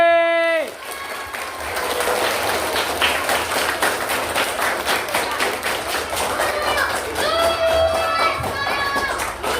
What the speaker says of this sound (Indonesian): Tepuk tangan buat Pak Rozi.